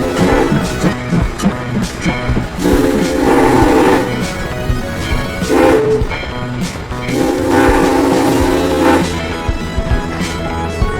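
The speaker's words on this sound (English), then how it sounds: "This is a steam train" A steam train in Chehalis, Washington, sounds loud, sustained whistle blasts in several long bursts with short breaks between them, over the rumble of the locomotive.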